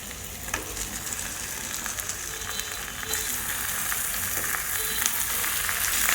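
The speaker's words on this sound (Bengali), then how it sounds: "ম্যারিনেট করে রাখা চিকেনগুলো এখন আমি দিয়ে দিই" Loud, continuous sizzling of marinated chicken frying in a hot pan, with crackles and a few stirring scrapes, growing slightly louder.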